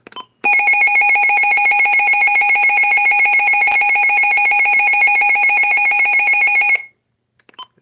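A Midland WR400 weather radio sounds its alert alarm: a loud, steady electronic tone runs unbroken for about six seconds, then stops abruptly, with nothing else heard.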